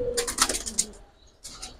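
Yellow-throated pigeons coo in a few soft, close bursts with brief gaps between them, and no voices can be heard.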